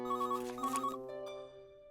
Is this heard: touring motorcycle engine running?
no